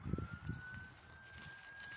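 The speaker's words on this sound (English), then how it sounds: "I thought I heard a siren." Police siren heard far off during a snowy outdoor walk, a faint thin steady wail under wind noise and some low rumbling handling sounds, no speech.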